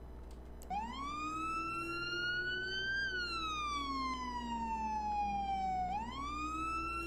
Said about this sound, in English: what you should be able to hear is this siren